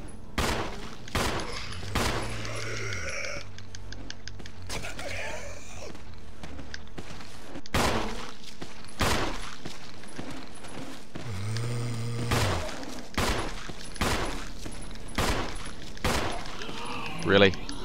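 Sharp gunshots in the Resident Evil remake ring out one at a time at irregular intervals, with other in-game sounds and occasional vocal noises between the shots.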